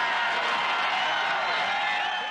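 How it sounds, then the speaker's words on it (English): A football stadium crowd roars in a sustained, dense wash of cheering after a Buffalo Bills interception in 1992, loud and unbroken from start to finish. "The crowd in a frenzy."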